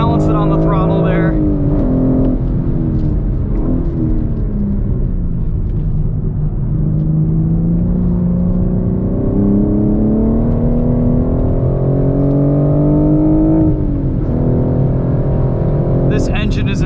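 A 2021 BMW M4 with a 6-speed manual is driven on a race track, its engine droning loudly inside the cabin and rising and falling in pitch with throttle and gear changes, with a person talking over it.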